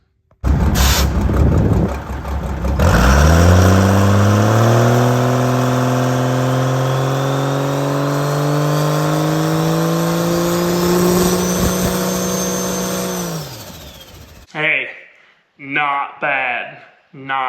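Diesel truck fitted with a tuned P-pump and big turbos revs hard, a loud sustained climb as the turbos spool up, rising pitch held for about twelve seconds before cutting off, followed by brief bursts of talk.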